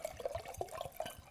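Wine poured into a glass, a short, close trickle of liquid with small splashy bursts, filling to about half.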